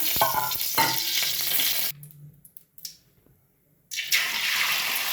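Oil heats in a pot for egg omelette pulusu, a dense close sizzle with stirring scrapes that cuts out into near silence for about two seconds, then resumes just as loud.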